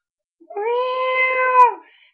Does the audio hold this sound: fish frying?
no